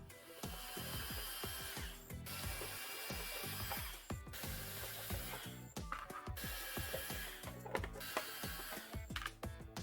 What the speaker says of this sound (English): There are 7 screws on the underside that you'll need to take off to get to the filth within